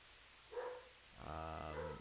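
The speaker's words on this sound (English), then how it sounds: "now you can hear my dog barking like a maniac" Dog barking in bursts at a distance, a short yelp followed by a longer harmonic bark-like cry, alone with no talk.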